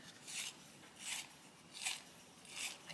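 A colouring pencil is turned in a small sharpener, making four soft, evenly spaced grinding strokes close by in a quiet room.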